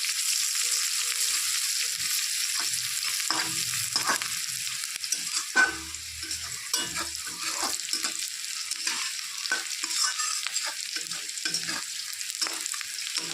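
Onions frying briefly in a pan for a fish kalia curry, a bright close sizzle with frequent stirring scrapes and small clatters from the spatula, continuous throughout.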